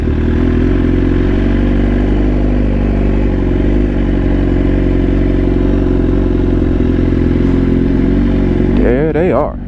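BMW S1000RR motorcycles idle and rumble steadily close by in a city street setting, a loud continuous engine drone, with a short rising rev near the end.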